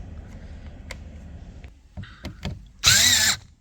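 A power tool whirs in one loud half-second burst while bolts are driven to mount a passenger-side mirror on a 2010s Mercedes E-Class E350 W212, after quieter clicks and handling noises.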